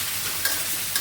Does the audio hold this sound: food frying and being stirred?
yes